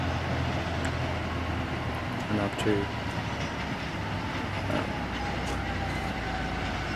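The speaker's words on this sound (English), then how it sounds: "So now the other goods train arrived before us, heading across" Goods train on a line between Tauranga and Hamilton, New Zealand: steady rumbling rail noise with faint clickety-clack and a distant squeal, continuous under brief speech.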